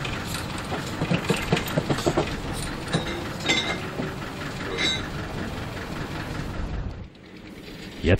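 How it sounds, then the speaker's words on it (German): A 1959 narrow-gauge field railway locomotive pulls out with a train of tipper wagons, giving a steady rumble and rhythmic clattering of wheels on rails, fairly close, before fading near the end. "Gleich fährt die Dima von 1959 mit ihrem sehr authentischen Kipplorenzug aus."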